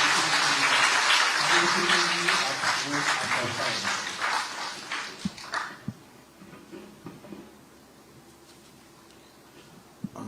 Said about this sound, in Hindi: आपकी जोरदार तालियों से हम स्वागत करते हैं।